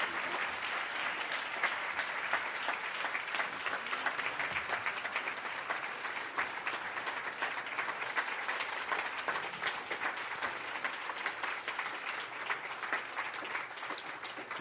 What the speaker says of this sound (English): give another round of applause to Mr.